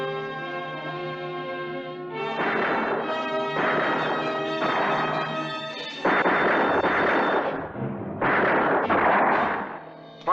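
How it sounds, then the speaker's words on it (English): Gunfire in a western film, a run of loud booming shots and crashes in irregular bursts over a sustained musical score, close and dramatic. "Firing high over our heads."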